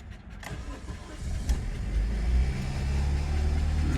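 A 2004 Chevrolet Optra's engine cranks, catches and settles into a steady, rumbling idle, close and fairly loud.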